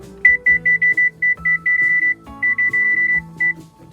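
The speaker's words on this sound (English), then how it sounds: "So we're going to set our timer" Electronic kitchen timer being set to 20 minutes, a loud close run of short rapid beeps in quick bursts, with no voices.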